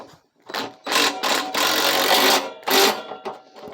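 Rapid metallic clicking and ratcheting in short bursts with brief pauses, a socket wrench being cranked tight on a snow blower auger transmission, close by.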